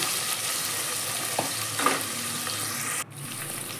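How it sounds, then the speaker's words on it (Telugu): Five or six green chillies fry in a pan for vegetable biryani, a steady close sizzle with a couple of small knocks from stirring, then a brief dropout before the hiss resumes slightly quieter. "లైట్ గోల్డెన్ కలర్ వచ్చేంత వరకు వాటిని మనం వేయించుకున్నామండి"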